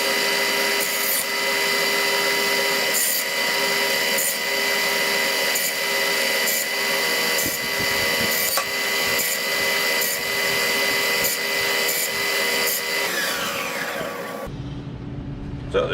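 A power saw runs continuously, cutting wood pieces to 1 inch lengths for a lighthouse model build, a loud steady whine with periodic cutting strokes before spinning down and stopping near the end.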